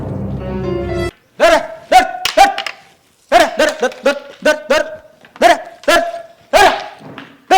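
A dog barks repeatedly in short, loud bursts indoors, the barks coming in uneven clusters with brief pauses, after a sustained tonal sound at the start.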